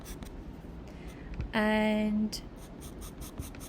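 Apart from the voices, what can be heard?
drawing with a darker pencil on paper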